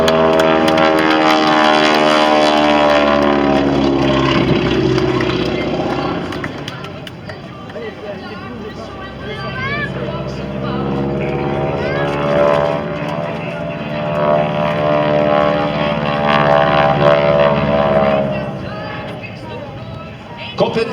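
A propeller aerobatic airplane performs at a world aerobatic championship air show in Châteauroux, its loud engine droning and changing pitch steadily throughout, while an announcer talks over it.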